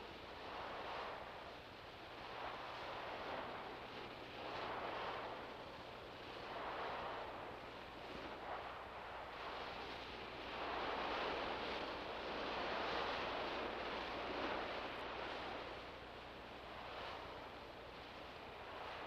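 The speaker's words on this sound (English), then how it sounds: "Let's find out what effect waves like these have on a beach." Ocean waves break and wash up a sandy beach face in slow, repeated surges, each swelling and receding, with a constant roar of surf and some wind noise on the microphone.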